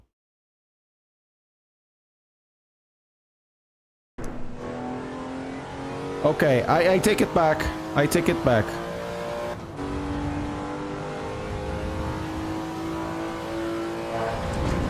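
A race car engine in the Assetto Corsa EVO racing game, loud and raspy, starting abruptly after silence, then revving and climbing through rapid gear changes before settling into a steady high drone, with someone talking over it.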